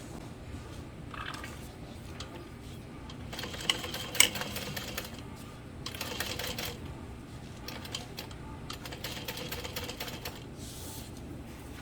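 A domestic sewing machine stitches over a backpack webbing connector, running in a continuous fast clatter that speeds and eases in waves, fairly quiet and close.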